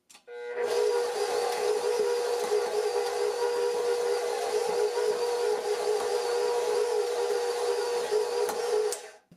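A KitchenAid 6 Qt Professional 600 stand mixer runs at stir speed while mixing cookie dough with chocolate chips and toffee, giving a steady, loud motor whine with a constant tone from start to finish, with no talk over it.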